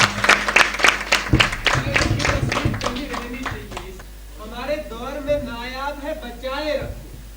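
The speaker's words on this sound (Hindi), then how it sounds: "जोरदार तालियां इनके लिए" An audience at a prize distribution ceremony claps for a ghazal singer, a dense burst of applause for about four seconds that fades out as a voice talks over it.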